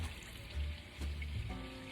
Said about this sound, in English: So we're gonna give this a little bit of water.